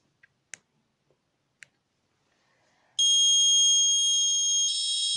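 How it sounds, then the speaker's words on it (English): A fingerprint attendance system's buzzer sounds a loud, steady electronic tone lasting a couple of seconds after an unauthorized finger is pressed, preceded by a few faint clicks from the scanner. "Buzzer is on."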